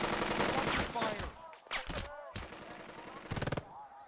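Burst of squad rifle and machine-gun fire in the wartime strategy game Burden of Command, with rapid clustered shots early on and a sharp rattling volley near the end, loud and mixed with game sounds.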